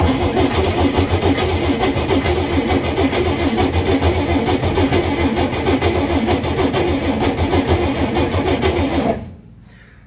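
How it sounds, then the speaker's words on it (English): A flood-damaged 1965 Chevrolet Corvair Monza 110 engine, long unused, cranks and runs with a steady, loud, rough chugging for about nine seconds, then shuts off abruptly into quiet. "Getting ready to spin the engine over."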